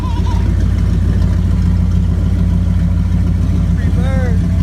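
A 1993 Ford Centurion engine idles with the radiator cap off during a cooling system flush, a steady low rumble running throughout while people talk over it.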